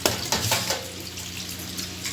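Water runs from a tap or is poured into a pot of boiled chickpeas to cool them while making Lahori chana, a steady close splashing with a few louder gushes at the start.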